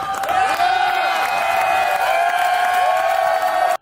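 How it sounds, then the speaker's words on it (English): A studio audience applauds and cheers loudly and continuously, with dense clapping, whoops and crowd noise close up throughout. "Look why they're clapping and going crazy for."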